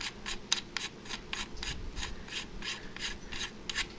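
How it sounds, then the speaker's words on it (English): A castle nut is ratcheted off a Bushmaster AR-15 with a wrench, giving a quick, even series of close, crisp ratcheting clicks. "Just go ahead and back the castle nut off."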